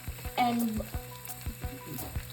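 Paratha roasting in oil on a skillet over a medium gas flame, with a soft steady sizzle broken by several sharp clicks and scrapes of a brush or spatula against the pan, up close.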